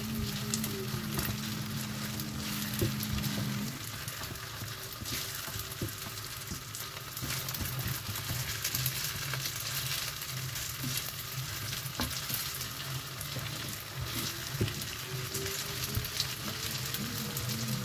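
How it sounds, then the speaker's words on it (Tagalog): A thick puto maya mixture of rice and coconut milk is stirred in a pan, with a continuous close sizzle and scraping stir strokes running unbroken throughout, no voices. "Kailangan po kasi halukayin talaga siya. Kasi para mag-mix lahat ng gata na ginawa natin."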